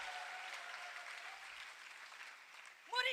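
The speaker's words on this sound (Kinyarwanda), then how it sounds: "Komera Yesu amashyi, umubwire ngo turishimye" A church congregation claps for Jesus during a service: steady, fairly faint applause from many hands runs through the whole stretch, and a voice breaks in loudly right at the end.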